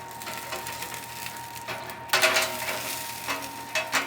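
Branzino fish sizzling under a broiler, a soft, steady crackle and hiss. Occasional louder pops and scraping sounds break through, and a faint hum runs underneath.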